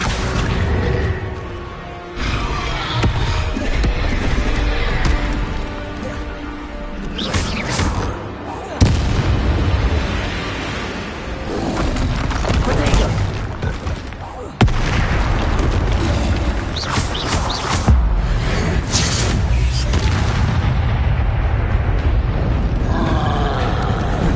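Spell explosions and booming impacts in the Hogwarts Legacy video game, loud dense blasts and rumbling crashes filling the whole stretch with a few sharp bursts, shouted spell incantations mixed in.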